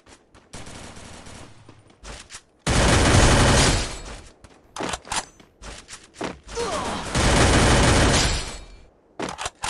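Rapid bursts of automatic gunfire from the battle-royale game Free Fire, loud sustained volleys alternating with sparser shots and gaps, with no talk over them.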